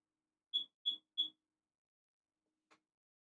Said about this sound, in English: Again with the fire alarm.